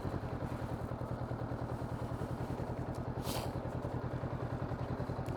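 A motorcycle engine starts up and runs at a steady, rough rhythm on a training-course pad for the A2 licence, heard from a moderate distance with a brief clattering burst partway through and no talking.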